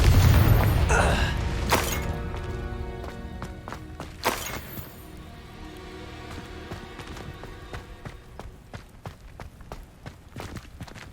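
A Confringo blasting spell explodes in Hogwarts Legacy: a loud burst with a deep boom at the start, a second sharp blast a few seconds later, then scattered thuds and clicks of game action fading away.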